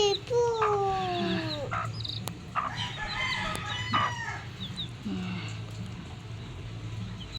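A hen and chick at a backyard pig pen cluck and call close by, with a rooster crowing near the start and repeated clucks over steady rural background noise.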